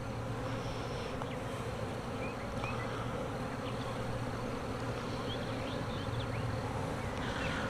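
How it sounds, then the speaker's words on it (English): A swarm of honeybees buzzes all around at close range, a thick unbroken hum with occasional individual bees darting by, and no talking. "I got a face full of bees"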